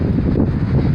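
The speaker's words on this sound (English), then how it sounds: "It's a windy day, and we're coming up to the beach." Strong wind buffets the microphone at a beach during tropical storm Jose, a dense continuous low roar with a hint of surf behind it; no one talks.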